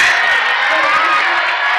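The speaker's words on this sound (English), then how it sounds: "Oh, the crowd's fired up, Shafe." During a boys' high school basketball game on senior night, the gym crowd cheers loudly in a dense, continuous roar of many voices, with no break across the short burst.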